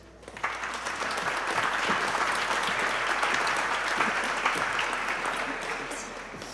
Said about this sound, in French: Je vous demande donc d'applaudir Estelle Sabatier.